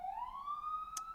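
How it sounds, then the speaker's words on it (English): Brief, faint police siren in New York rising smoothly in pitch as it winds up, distant and on its own, with a short click near the end. "I miss the sirens of New York."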